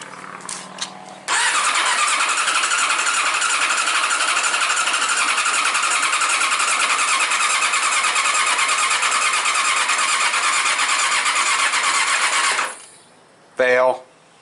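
A Yamaha R6 motorcycle with newly replaced spark plugs cranks loud and close with an unbroken, even whir for about eleven seconds without catching, then stops, and a brief voice follows.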